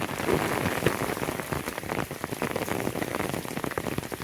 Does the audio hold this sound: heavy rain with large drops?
yes